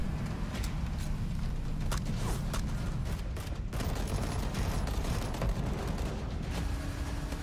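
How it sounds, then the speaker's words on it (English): Explosions and gunfire from a video game trailer shown at Microsoft's E3 2017 press conference, a dense, rumbling barrage of blasts and rapid shots that continues without a break. "What were those explosions happening at the same time?"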